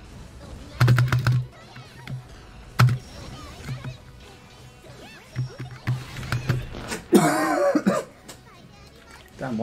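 A person coughs and clears their throat in a few short, sharp bursts during a stream of the fighting game Granblue Fantasy Versus, close up and mixed with game sounds and talking.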